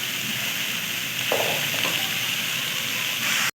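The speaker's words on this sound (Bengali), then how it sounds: "এবার এটাকে ভালো করে নাড়তে থাকবো।" Ground spices with salt, turmeric, chilli powder and mustard-poppy paste being stirred in a hot pan, a steady close sizzle with scraping strokes, with a short clatter near the end.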